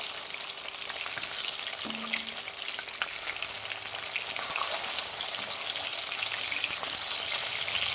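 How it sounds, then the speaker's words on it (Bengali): Pieces of catla fish frying lightly in hot oil, a continuous close crackling sizzle with scattered sharp pops and spits that grow slightly louder over the stretch, no voices. "আর এই মাছটা বেশি ভাজবো না, একদম অল্প করে ভাজবো"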